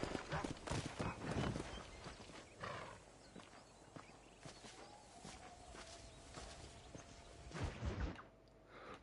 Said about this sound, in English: I keep forgetting you can't come off the horse in this game